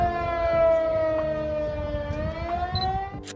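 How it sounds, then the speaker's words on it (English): A civil defense siren for a tsunami warning in coastal Alaska wails, holding a long, slowly bending tone, loud and steady with a few faint background noises. "with sirens blaring across fishing villages and remote communities perched along the rugged coast"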